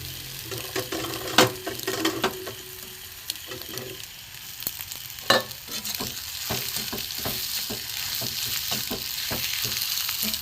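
Egg and mashed boiled potato paratha filling fries in ghee in a pan, a steady sizzle broken by scraping stirs and a few sharp clinks of the spatula against the metal, close and moderately loud, with no voices.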